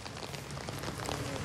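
Steady rain falls on an outdoor yard of muddy ground, a dense, even hiss of drops with no breaks, moderately loud and unbroken by any voices.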